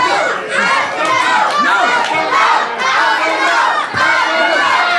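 A loud indie wrestling crowd cheers and shouts for Ultimo Ant, a dense roar of voices with chants rising and falling over several seconds.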